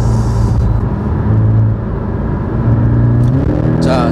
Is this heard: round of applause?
no